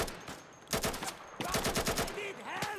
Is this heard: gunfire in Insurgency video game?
yes